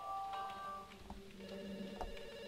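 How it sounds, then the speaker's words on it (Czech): Telephone ringing in the psychological horror game The Works Of Mercy, a repeating electronic ring with steady tonal lines over a low room hum, moderately loud and without talk. "někdo neodbitný se nám snaží dovolat"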